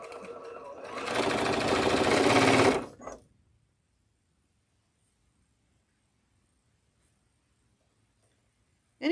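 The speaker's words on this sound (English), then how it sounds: "we're just going to chain piece and go as fast as the machine will allow" A home sewing machine chain piecing quilt blocks at top speed, with a loud, steady motor whir and needle chatter running for about three seconds before it stops abruptly, followed by near silence and a brief sound at the very end.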